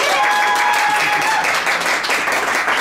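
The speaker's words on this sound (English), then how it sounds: "The loudest applause for each of the 3 will be the scene that we do" Audience applause in a theatre as people vote for an improv scene; loud, dense clapping and crowd noise fill the stretch, with a brief tonal whistle or voice early on.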